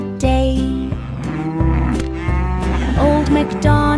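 A cartoon cow in an animated nursery rhyme moos several times over a bouncy musical backing, the drawn-out lowing calls repeating steadily and loudly through the song.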